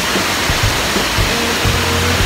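Kawai waterfall, an icy mountain cascade on a road trip from Karachi to Naran, gives a steady, loud broadband rush of falling water that fills the whole moment, with some low rumble underneath and no talk.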